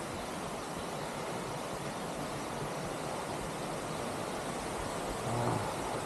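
Seryeong waterfall on Chiaksan, Korea, pours as a steady, broadband rushing roar, continuous and even without a break, with no voices heard over it.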